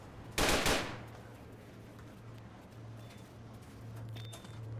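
Gunfire during a raid in a video game: one short, loud burst of shots near the start, then a low steady hum with faint game noise for the rest.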